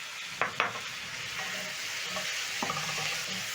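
Three diced tomatoes tossed into a hot pan with onions, garlic and ginger for a dry fried pork dish: a steady close sizzle with a few sharp scrapes of a spatula near the start.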